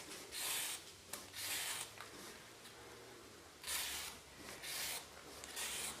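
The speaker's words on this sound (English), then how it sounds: "So when you're peeling a carrot, just take it nice and slowly and just take a thin outer layer off the outside." Carrot being peeled slowly with a vegetable peeler, faint close scraping strokes in soft bursts of roughly a second each, separated by quiet pauses.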